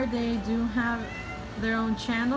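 A cat cries and meows insistently for attention, giving several drawn-out, rising and falling meows close by while a person talks over them.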